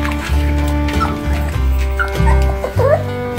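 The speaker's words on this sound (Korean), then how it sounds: "알았어 그만 낑낑거려." A puppy whimpers and yips in short, high-pitched bursts, close and fairly loud, with a few soft barks mixed in.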